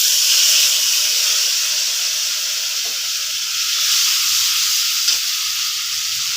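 A paste of ground cumin, chilli and ginger frying in a pan gives a loud, steady hiss and sizzle. A couple of faint scraping knocks from stirring are heard.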